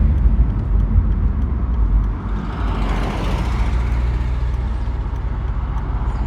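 A BMW E46 M3's engine is driven at a junction and downshifted into second gear, a loud, close, steady mechanical rumble whose pitch swells briefly midway before settling, with no talking.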